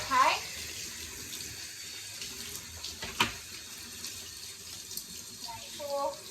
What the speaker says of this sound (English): Now give your shower head and the tube a nice rinse. Some warm or hot water, okay?